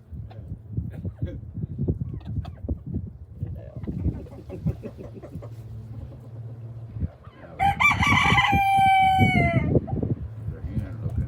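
A rooster in a chicken yard crows once loudly and close by, following several seconds of clucking, rustling and a low hum, with a person talking nearby.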